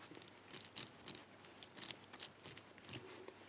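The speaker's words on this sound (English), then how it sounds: "cover the lock and shuffle the wheels." Wheels of a Master 4-wheel combination padlock being shuffled, giving a quick series of close, crisp metallic clicks and ticks in irregular bursts, with no voices.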